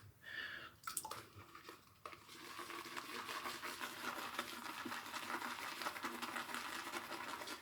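A shaving brush swirling soap into lather, soft wet churning and swishing that turns steady after a few clicks and knocks at the start, close but quiet.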